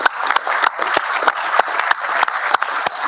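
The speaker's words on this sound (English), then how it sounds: "could we please give him a round of applause in his absence" A round of applause from attendees at a formal meeting, a modest, fairly close patter of individual claps with distinct sharp hand strikes rising out of it, lasting a few seconds.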